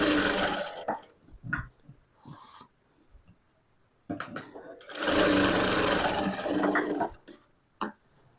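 A sewing machine stitches delicate georgette or crepe cloth, running in short close bursts and then a longer steady run, with brief pauses between passes.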